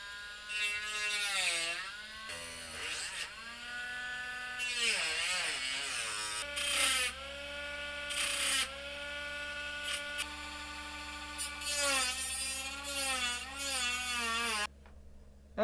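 A handheld rotary tool fitted with a cutting disc grinds down a part during a guitar MIDI pickup install, giving a loud, high whine that rises and falls in pitch as the disc bites and eases off, with no talking.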